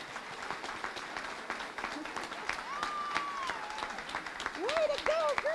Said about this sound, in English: if we could just give her the biggest round of applause, Erica Willis